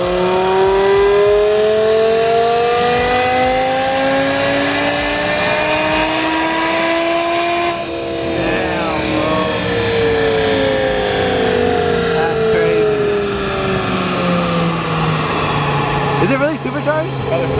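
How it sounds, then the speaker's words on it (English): A BMW M5 engine revs hard on a dyno, its loud, sustained note climbing and falling in pitch as the run builds and then winds back down. "someone's about to go on the dyno. I think it's the M5."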